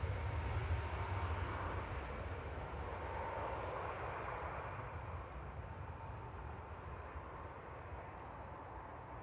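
Airliners, including Gulf Air and Cathay Pacific jets, taxiing at Manchester Airport, a steady low engine roar at a distance that holds throughout and slowly fades slightly, with no talk.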